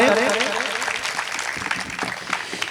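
An audience applauding at a Hindi comic poetry recital: a dense wash of clapping from a full hall, with a voice speaking over it at the start.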